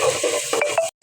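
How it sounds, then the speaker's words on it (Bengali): Rice frying in a pot, a steady sizzle broken by a few scraping stirs of a spoon against the pot, cutting off abruptly near the end. "চাল দিয়ে ভালোভাবে নিয়েছি ভাজা ভাজা করে"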